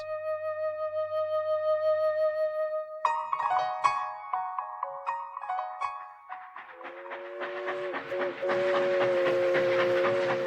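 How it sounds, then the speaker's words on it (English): An 1890-style sugarcane steam train in Hawaii, running between Lahaina and Ka'anapali, sounds a long whistle, then chuffs and hisses with clanking rail noise, building into steady rhythmic running close by. "the 1890-style sugarcane train traversing between Lahaina and Ka'anapali"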